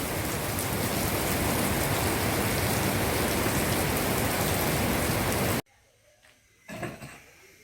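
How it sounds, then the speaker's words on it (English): Heavy rainstorm pours down on a construction site, a dense, loud, steady roar of rain that cuts off abruptly near the end, leaving a quieter stretch with a brief thump. "It rained very hard, rained sideways for a while."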